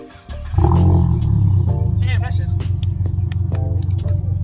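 A VB-generation Subaru WRX with a newly installed AWE Track Edition exhaust fires up and settles into a loud, steady, rumbling idle close by, with a few brief sharp clicks and noises over it.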